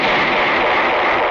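A small explosion sound effect in a radio drama, heard as a dense, loud burst of hissing noise that fills the clip without any talk.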